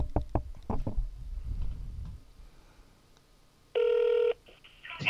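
Telephone ringing in a short, loud electronic burst, following rustling and thumping handling noises.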